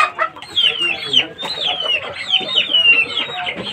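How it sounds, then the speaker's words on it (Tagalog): Fighting roosters cluck and crow in a steady run of sharp, close calls, overlapping one another over a low murmur of background activity. "yung mga manok panabong guys"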